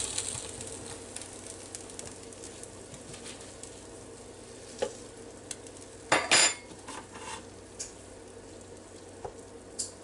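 Butter and flour cook quietly in a pan with a soft, low sizzle. Now and then a utensil clinks against the pan or dish, and one louder scrape of metal comes near the middle.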